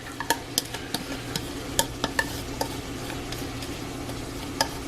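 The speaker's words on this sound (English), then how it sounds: "I'm gonna add our onions and pepper mixture" Onion and pepper mixture stirred into a pot of chili, a spoon clacking against the pot in quick uneven strikes over a steady frying sizzle, close and without speech.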